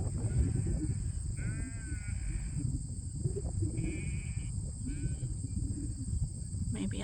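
Sheep bleat on a farm at summer's end, several wavering calls from near and farther away, with a low rumble and a constant insect whine underneath.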